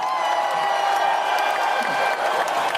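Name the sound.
applause sound effect played from an applause button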